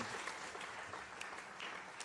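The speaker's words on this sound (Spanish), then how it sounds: "Yo doy un aplauso al Señor por eso si están de acuerdo conmigo." Church congregation applauding during a sermon, a brief, fairly faint wash of continuous clapping that holds steady without a clear start or end.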